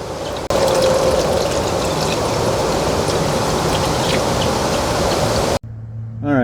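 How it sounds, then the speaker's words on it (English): Engine oil pours in a steady, loud, close gurgling rush into a Ford Transit van's engine for about five seconds, then cuts off abruptly. "finally time to start adding some oil to this thing"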